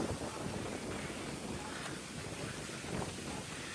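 Wind buffets the microphone in a steady, rough roar with gusty swells, and no voices are heard.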